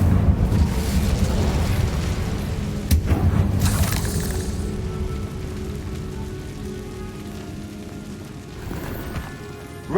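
The Incendio fire spell is cast in Hogwarts Legacy, a loud, roaring whoosh of flame with a sharp crackling burst early on that settles into a sustained rumble and fades slowly.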